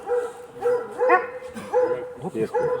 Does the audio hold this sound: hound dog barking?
yes